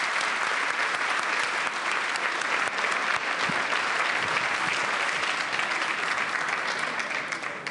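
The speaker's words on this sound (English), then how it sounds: "Let's give a huge round of applause to our panel." Sustained, dense audience applause fills a conference hall after a panel discussion at the Munich Security Conference, steady and loud throughout with no break.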